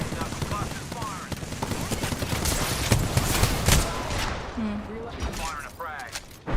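Rapid bursts of automatic gunfire from a cluster weapon in a shooter video game, dense and sustained throughout, with game effects and a voice briefly over the shooting.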